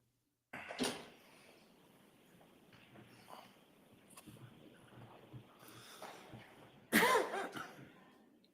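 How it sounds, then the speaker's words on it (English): A couple of sharp coughs in a quiet courtroom, one near the start and a louder one later, separated by faint rustling and room noise. "More coughing."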